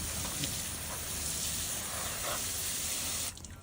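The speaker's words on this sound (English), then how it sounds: "Let me spray this down a little bit here." Water sprays in a steady, loud hiss for about three seconds, then abruptly cuts off.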